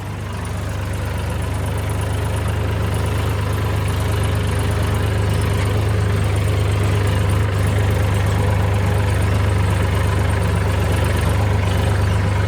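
A tractor engine idles loud and close, a constant low rumble with a steady mechanical drone and no pauses, alone without voices.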